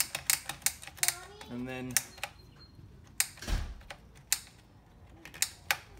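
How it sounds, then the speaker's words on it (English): Ratchet strap on a Thule T2 Pro XT bike rack being cranked, giving sharp, irregular clicks close by, with a short spoken phrase partway through. "If you just push the ratchet system in and you start ratcheting it through"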